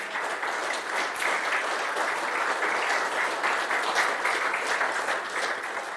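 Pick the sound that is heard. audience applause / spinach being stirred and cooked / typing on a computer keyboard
audience applause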